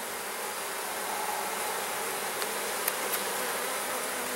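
Honey bees swarm around an open, strong hive full of heavy brood frames, and their dense buzz holds steady up close. There is no talk.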